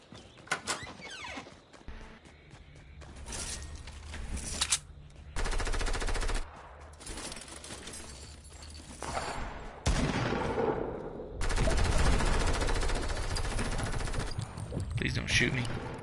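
Repeated bursts of video game gunfire, including rapid automatic fire and single shots, come loud and close in irregular clusters, with a near-continuous din of action sounds and occasional speech mixed in.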